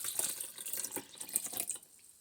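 Tap water runs into a measuring cup for a coconut chicken curry, a bright splashing, gurgling stream with small uneven surges that eases off toward the end, close and fairly quiet.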